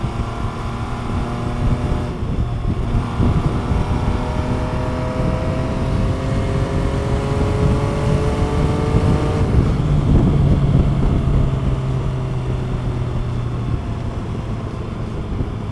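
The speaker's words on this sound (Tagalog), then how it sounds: "ang ganda ng tunog ng exhaust, no?" An MV Agusta Superveloce 800 motorcycle exhaust revs up close, its engine note climbing steadily in pitch, then dropping and rising again in a loud, continuous roar.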